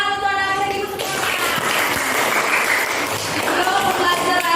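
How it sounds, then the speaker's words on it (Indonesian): Applause from a classroom group for the children, a dense, steady wash of clapping that runs throughout, with a voice heard briefly at the start. "tepuk tangan untuk anak-anak ibu semua"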